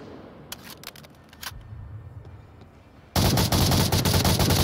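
Bursts of SA-80 suppressive gunfire in the Onward VR shooter: scattered distant shots at first, then a loud, sustained rapid string of close automatic fire.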